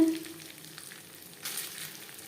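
Cooked rice and vegetables, with lightly fried cashews and raisins, are stir-fried for vegetarian fried rice, producing a soft, brief sizzle with a slight swell of hissing near the end.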